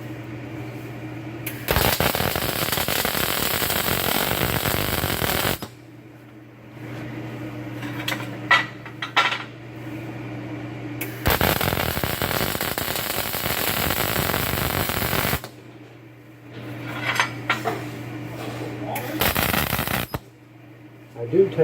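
A welding bead laid on a steel shooting target, heard as three loud bursts of crackling, sputtering arc noise. Quieter gaps between them carry a low electrical hum and a few light taps.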